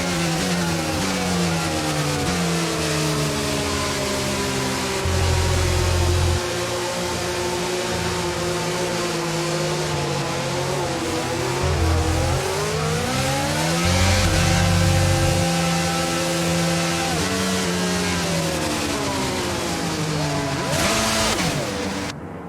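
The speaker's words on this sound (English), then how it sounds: "As the cars come back towards the grid to line up for the start of the race" Engines of F1 cars in the F1 22 racing game idle and rev on the starting grid at the French GP, a loud continuous layered drone with pitches rising and falling together, swelling around the middle and near the end.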